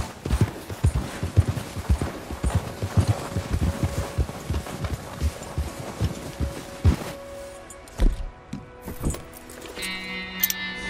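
Hooves of a white Arabian horse being ridden through snow in Red Dead Redemption 2, a steady clip-clop gait with jangling tack, close and clear, before the sound thins out near the end.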